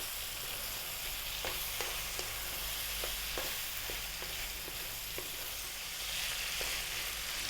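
Tomatoes and tomato paste frying over medium heat in a lamb stew pot, a steady loud sizzle with irregular clicks and scrapes of stirring throughout, no voices.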